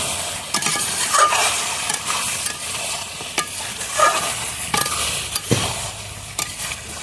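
Spices sizzle and fry in hot oil with chicken feet, a steady crackling hiss broken by a few sharp clinks and scrapes of a stirring spoon against the pan.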